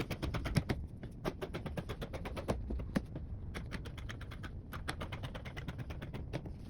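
Scissors snip through fabric while a short skirt is cut out, giving a steady run of crisp close clicks and slices with small gaps between strokes.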